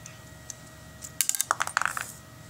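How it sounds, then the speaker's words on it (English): Small metal screws are unscrewed and dropped from a medical test equipment casing, producing a quick cluster of light, bright clinks and rattles after a few isolated ticks. "So let's unscrew this."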